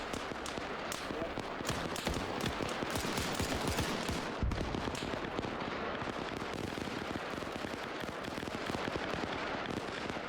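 Dense, rapid gunfire from an Arma 3 trench battle crackles without pause, with overlapping bursts and distant pops and one heavier thud near the middle.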